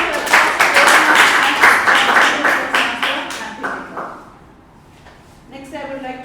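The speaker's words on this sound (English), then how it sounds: "Give big round of applause." Toastmasters club audience applauding after a member's speech, a dense burst of clapping that thins and fades out over several seconds, with a voice resuming near the end.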